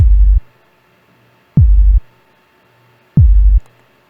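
Three deep, punchy kick drum hits from a 3xOsc synth in FL Studio, evenly spaced, each starting with a quick downward pitch drop into a booming low tone.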